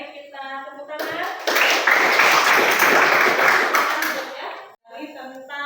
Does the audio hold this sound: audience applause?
yes